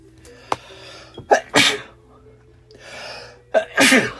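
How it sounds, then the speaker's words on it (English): A single loud, sharp sneeze near the end, preceded by a few quick breaths and sniffs, close to the listener. "I always sneeze over here."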